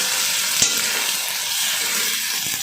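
Soaked dried prawns frying in a pan, a loud close sizzle with a steady bright hiss and a brief clatter as they land and are stirred.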